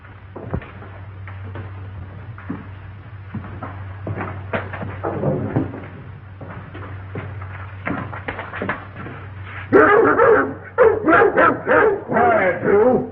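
Dogs barking in a radio drama: a burst of several sharp, close barks near the end, preceded by talk and rustling over a low steady hum.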